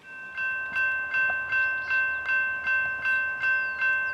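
An Amtrak Valley Flyer passenger train, one P42 locomotive with two coaches, rolls past in South Deerfield, Massachusetts with a steady rhythmic clatter of wheels over rail joints, a sustained tonal hum beneath the regular beats.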